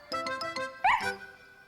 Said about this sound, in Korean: 그때 학교 문 밖에서 기다리던 스너피가 다시 한번 힘차게 짖었어요.